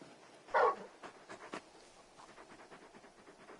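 A large dog in the video game Final Fantasy XVI pants and snuffles, opening with a short louder burst and then quick, soft, irregular breaths close by, with no speech.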